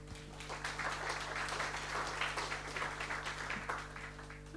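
Audience applause at a French legal round-table on GDPR and anonymisation technologies, a steady wash of many hands clapping from a seated crowd, moderately distant and sustained without a break.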